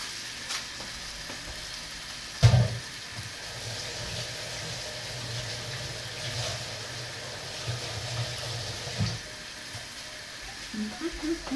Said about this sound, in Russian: жарю стейки и варю картошечку на ужин